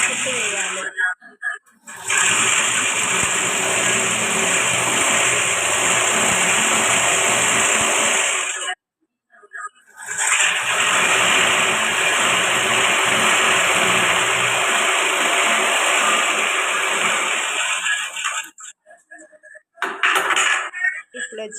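Sewing machine stitching the back part of a blouse hums loudly and steadily in long continuous runs, broken by two brief pauses and ending in short stop-start bursts.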